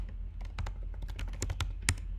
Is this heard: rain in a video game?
no